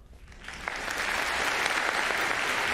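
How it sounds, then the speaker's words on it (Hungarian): Guests applaud as a new managing director of a company is introduced, the clapping swelling from a scattered start into a dense, steady ovation that fills the room. "Nagy tapsot kérek Pierre Boulognak"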